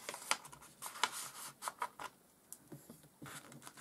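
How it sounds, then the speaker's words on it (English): Sheets of origami paper being folded into a ninja star (shuriken): a string of soft, crisp crinkles and sharp creasing snaps, close and quiet, with no talking. "we need to fold this over"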